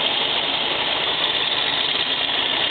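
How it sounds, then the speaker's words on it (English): Original Judson supercharger on a Karmann Ghia engine at idle, slightly noisy from worn vanes and bearings, giving a steady, close whirring drone with no breaks. "But these Superchargers can get a little bit noisy over time when the vanes and the bearings start to wear out."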